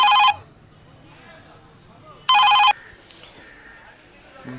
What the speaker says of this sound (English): Sorry for the disturbance. Some phone calls has came.